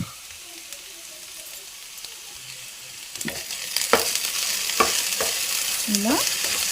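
Onions and garlic fry with ladyfinger (okra) in a pan. A soft sizzle grows louder once they go in, with a few clinks and scrapes of stirring, and no one speaks.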